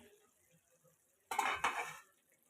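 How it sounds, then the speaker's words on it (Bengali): A metal lid lifted off a kadai of spicy puti fish curry with brinjal and onion stalks, a sudden short clatter and scrape near the middle, close and clear after near silence. "এবার আমি ঢাকনাটা খুলে নেব।"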